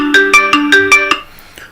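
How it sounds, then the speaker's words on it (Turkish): A phone ringtone set off by the find-phone feature of a Xiaomi Smart Band 9 Pro: a bright, melodic electronic tone repeating six times in quick rhythm, close and loud, then cutting off into quiet room tone. "Bakın telefon çalıyor."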